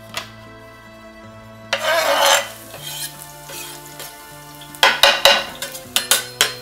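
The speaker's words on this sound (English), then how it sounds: "now what we're gonna do is we're gonna make the saute" Garlic sautés in olive oil in a pan for broccoli rabe, with a loud hiss swelling midway, then sharp clinks and scrapes of a utensil against the pan over soft background music.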